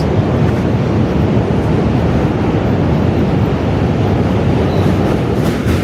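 Loud, continuous rumble and rattle of subway trains passing close by, a steady roar filling the whole span with no talk over it.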